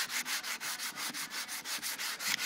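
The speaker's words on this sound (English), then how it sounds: "if I go side to side, on a flat surface, that's using a 120 grit" A Rotax 462 cylinder head is skimmed on 120 grit sandpaper laid on a flat surface, giving fast, even side-to-side rasping strokes, about five per second, loud and close with no voices.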